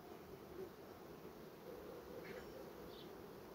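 Honey bees buzz in a crowded hive nucleus, a steady, dense, low drone that stays close and continuous.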